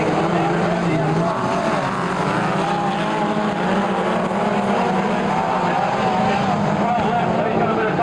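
Midget race cars roar around Kihikihi Speedway at the 1992 New Zealand North Island championships, a dense, constant engine drone with shifting pitch as cars pass, while a commentator talks over it.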